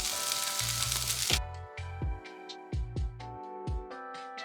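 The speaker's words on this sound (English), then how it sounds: "while we're cooking green beans" Green beans cooking in a pan give a loud, dense sizzle for over a second. It drops away abruptly to quieter, broken frying crackle with intermittent low thumps.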